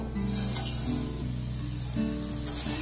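Roasted vermicelli fries in ghee in a pan while being stirred, a soft continuous sizzle with faint scraping of the spoon, close and fairly quiet.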